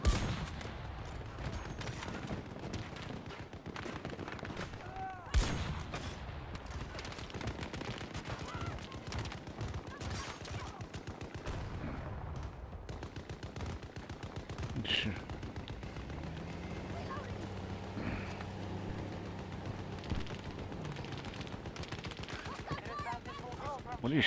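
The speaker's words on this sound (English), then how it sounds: "What are you shooting at?" Rapid bursts of automatic gunfire and heavier blasts from a Battlefield 2042 firefight crackle throughout, loud and close, with scattered louder shots and a low rumbling engine-like drone in the latter half.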